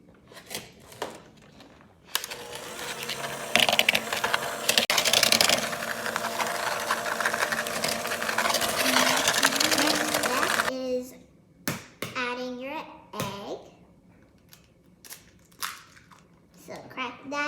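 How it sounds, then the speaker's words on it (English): Butter, sugar and salt being creamed together for chocolate chip cookie dough, heard as a steady, dense mechanical whir running for several seconds, framed by scattered clicks and brief knocks before and after. "add 1 teaspoon of salt and cream everything together"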